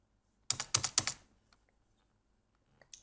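Quick bursts of keystrokes on a computer keyboard while writing JavaScript code, about five crisp clicks in a cluster, then a lone tap and two soft final taps, close and clear with no talking.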